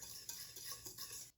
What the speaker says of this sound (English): I'm just taking a whisk, and I'm just going to go ahead and kind of get all of those dry ingredients incorporated together